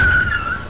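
A car braking with a short, shrill tyre squeal that slides slightly in pitch, loud and close, over a low rumble, lasting under a second.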